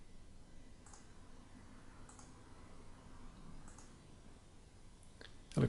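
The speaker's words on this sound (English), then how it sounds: "the idea is just to click near that outline and stiffen up those areas that are warping" A few sparse, faint computer mouse clicks, spaced about a second apart over quiet background hiss, while working with a puppet starch tool in animation software.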